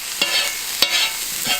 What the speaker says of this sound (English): So you fry off some onions until they start going brown and soft.